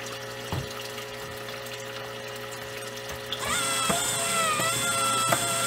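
A homemade photobioreactor starts up with a steady mechanical hum and pump whir, then a louder rush of running water joins partway through as its parts rotate.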